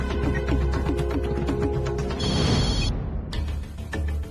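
A telephone rings in a repeating electronic ring pattern under a bed of dramatic background music, moderately loud and close.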